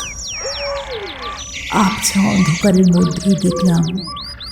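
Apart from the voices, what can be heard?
birds calling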